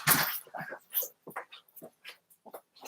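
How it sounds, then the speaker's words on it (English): Several dogs whimper and yelp in short, high-pitched bursts, with a sharper bark at the start, fairly close and restless, scattered across a few seconds. "These dogs are going to drive me insane."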